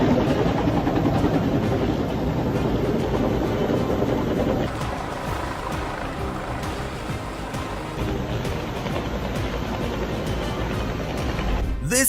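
Firefighting helicopter in Australia hovering to pick up water from a swimming pool, a loud continuous rotor roar that shifts slightly mid-way, with splashing wash beneath and a person speaking over it.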